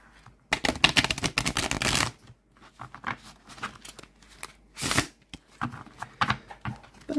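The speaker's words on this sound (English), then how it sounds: "I'm not the best at a riffle shuffle because of my arthritis at all." A stiff tarot deck is riffle shuffled up close in several bursts of rapid fluttering card slaps, with softer handling rustles between them.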